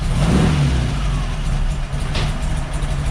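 A Baja Bug engine runs loud and close after its first start following electrical repairs, with a rough steady drone and a slight rise in revs early on.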